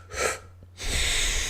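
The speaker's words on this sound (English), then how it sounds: "you're going to do 4 equal inhales through the O mouth." Quick breathy inhales through an open, O-shaped mouth: two airy bursts separated by a brief pause, then a longer sustained rush of breath, close and fairly quiet.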